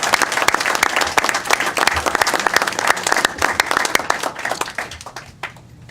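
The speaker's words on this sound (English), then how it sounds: "And we'll give another big round of applause." Applause from the audience at a Connecticut town council meeting in Enfield, a dense, sustained round of clapping that stays strong before thinning and fading toward the end.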